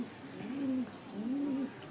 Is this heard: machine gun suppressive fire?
no